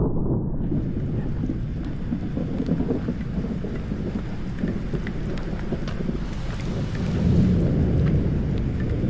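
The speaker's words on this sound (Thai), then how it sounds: "เพราะฝนตกนะครับ" Steady rain pours down during a storm in Sakon Nakhon, Thailand, with a deep, rolling rumble of thunder building underneath, swelling louder toward the end.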